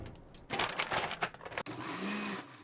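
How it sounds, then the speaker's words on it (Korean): A kitchen blender grinds frozen fruit with a little water, a loud whirring motor surging in bursts, then steadying into a continuous higher-pitched whine. "약간의 물을 섞어서 믹서기로 곱게 가는데"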